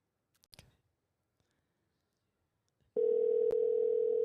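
A few soft clicks of phone handling, then a loud, steady, continuous dial tone starts abruptly and holds for over a second as a cell phone number is called, with no voices.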